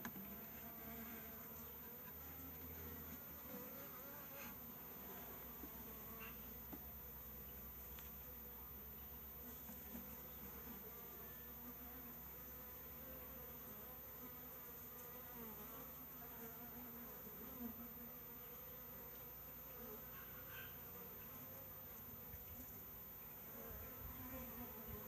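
Honeybees hum and buzz steadily around a Flow hive fitted with Ceracell rounds, a dense continuous drone close by with no voices.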